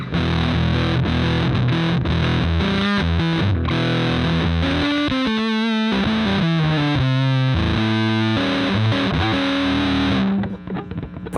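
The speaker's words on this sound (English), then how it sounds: "I'll show you what that sounds like before the fuzz face." Electric guitar played through an effects chain set ahead of a Fuzz Face pedal, a distorted, saturated tone with strummed chords and sustained notes, some bends and a brief gap mid-phrase, loud and close with no talking.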